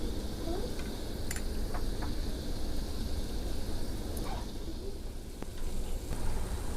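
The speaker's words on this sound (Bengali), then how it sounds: "এখন উলট পালট করে একটু লাল লাল করে ভেজে নেব" Egg and flour pitha (malpua) fry in hot oil, giving a soft, continuous sizzle with occasional small pops and clicks at a moderate distance, with no talking.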